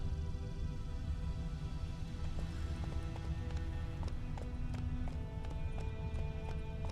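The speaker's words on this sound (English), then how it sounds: "Giddy up. Come on, Roach" Horse hooves galloping in a video game, a fast, even clip-clop rhythm running steadily throughout over a constant background bed, with a few faint tonal game sounds layered on top.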